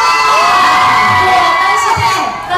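A live audience at a celebrity appearance in a shopping mall screams, whoops and cheers continuously, a loud crowd roar with high excited shrieks throughout.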